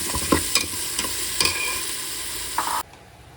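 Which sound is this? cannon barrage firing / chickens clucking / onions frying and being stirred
onions frying and being stirred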